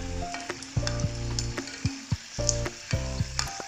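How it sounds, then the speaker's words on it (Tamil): Samosas made with atta and onion deep-fry in oil over medium heat, crackling and sizzling up close, with repeated spoon stirs and clinks against the pan and no talk. "சமோசாவை நல்லா மீடியம் ஹீட்டில் வச்சு கோல்டன் ப்ரௌன் கலர் வர வரைக்கும் பொரிச்சிக்கலாம்"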